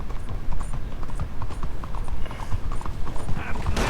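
Horse hooves clip-clop in a steady, close rhythm, with faint background noise and no talking.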